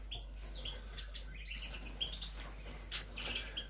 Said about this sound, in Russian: Ну вот и клёстики.